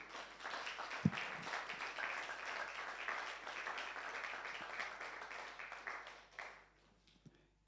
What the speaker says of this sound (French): Acclamons pour Dieu.